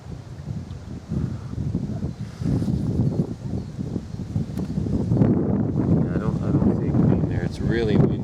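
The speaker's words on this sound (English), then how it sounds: "It's really windy." Strong gusting wind buffets the microphone outdoors beside a small beehive, a rumbling, uneven roar that swells and eases while a person talks over it.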